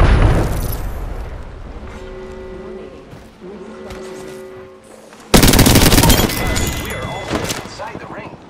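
In Apex Legends, a frag grenade goes off with a sudden loud boom partway through. Dense gunfire follows it, and before the blast there are quieter game sounds and voice lines.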